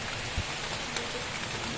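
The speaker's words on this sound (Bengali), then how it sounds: "ভালো জোরে বৃষ্টি হচ্ছে।" Heavy rain pours steadily outside a house, a dense, even hiss of falling water with a few faint nearby drips and knocks, and no voices.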